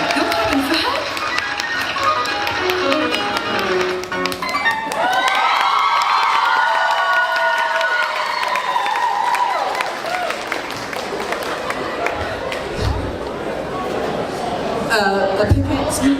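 An audience at a New Zealand cosplay competition claps and cheers loudly, with whoops and shouts rising in the middle, while people onstage talk over the crowd noise.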